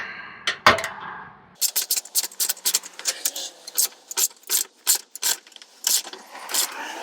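A ratchet wrench tightens the metal oil filter housing on a Lexus GX460, giving a run of quick, close, loud clicking bursts in a steady back-and-forth rhythm after a couple of initial knocks.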